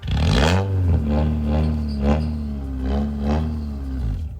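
Car engine revving hard with a seized alternator, a loud, close rough roar that surges and falls in several pulses over a few seconds, with no talking.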